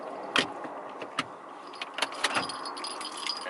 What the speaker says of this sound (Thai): เดี๋ยวผมจะดับกุญแจก่อนนะครับ ให้มันดับก่อน